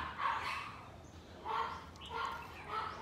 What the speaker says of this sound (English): Next door to me, I hear lots of dog barks.